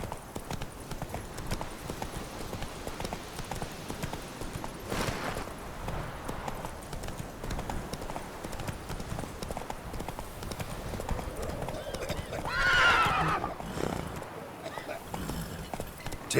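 Geralt's horse Roach in The Witcher 3: Wild Hunt, hooves clip-clopping in a steady trotting rhythm throughout, with a brief louder swell near the end, heard alongside game ambience.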